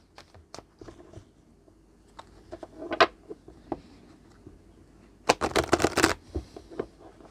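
Tarot cards being shuffled by hand, soft scattered riffles and taps followed by a louder, denser burst of shuffling near the end, close and quiet with no talk.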